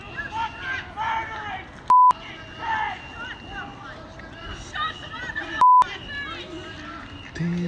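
Two short, loud censor beeps, each a steady pure tone about a quarter second long, cut through a busy stretch of talking and background crowd noise.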